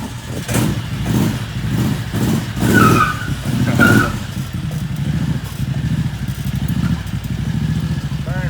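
A Reaper MiniTrike's small engine sputters through several pulled starts, then catches and runs at a loud, rough, close idle with a couple of blips of revving.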